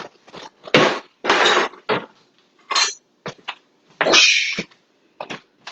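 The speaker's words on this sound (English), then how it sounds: "And we're just going to whisk that together really easy." Cornstarch and water whisked together in a bowl, a series of brisk irregular scraping and clattering bursts of the whisk against the bowl, close and fairly loud with pauses between strokes.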